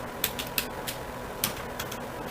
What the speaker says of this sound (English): let's type a valid password